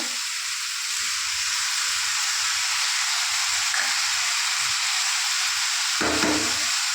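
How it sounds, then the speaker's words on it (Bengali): Spices and turmeric fry in a pan for a snail and vegetable curry, giving a steady, bright sizzling hiss that stays close and constant, with faint stirring scrapes and no speech. "হলুদ দিয়ে একটু কষে নিলাম।"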